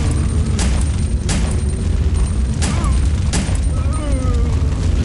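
Pistol shots go off in the video game Resident Evil 3, as about five loud, spaced single cracks over a heavy low rumble of game sound.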